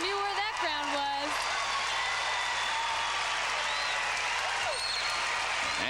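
A hometown crowd at a 1996 Pac-10 women's gymnastics championship roars and applauds steadily after a vault landing, a dense wash of clapping and cheers under a commentator's talk throughout.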